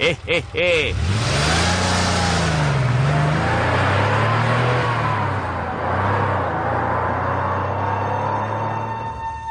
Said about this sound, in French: Et la voiture de Domingo Mba, l'assassin, s'éloigne.